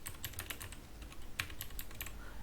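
Rapid typing on a computer keyboard, with a steady run of crisp, close key clicks and occasional louder keystrokes, heard alone with no speech.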